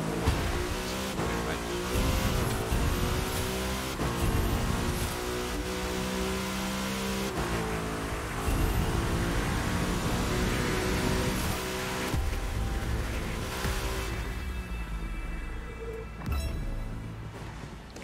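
Audi RS5 engine in a street race in The Crew 2, a loud continuous revving drone with gear shifts and rising accelerations, voice talking over it at times.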